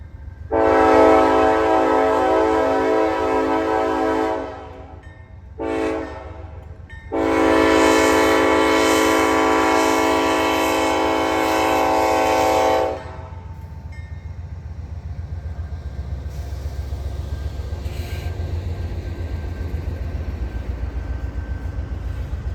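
A slow-moving Norfolk Southern freight train in Gaffney, South Carolina sounds two loud, close horn blasts, the second one longer, then rumbles and clatters along steadily afterward with no voices.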